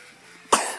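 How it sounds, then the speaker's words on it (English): A child coughs once, a short loud burst after a quiet stretch, with no talking in the moment. "And coughs."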